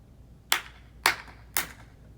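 Three sharp, separate claps from a group of children at a school announcement, evenly spaced about half a second apart in a quiet room.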